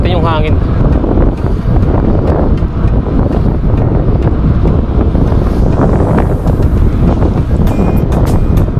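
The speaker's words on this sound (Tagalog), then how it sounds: "Salong-salo natin yung hangin." Strong wind buffets the microphone continuously on a mountain bike trail, a loud rumbling roar with gusty fluctuations throughout.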